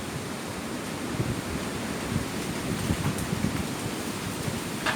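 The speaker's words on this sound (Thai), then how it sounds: "ลมแรงมากเลยท่านผู้ชมเนี่ย" Fierce, gusty storm wind roars steadily and close at hand, a dense broadband rush with a rain-like hiss and swelling gusts. It runs for the whole stretch with no voices.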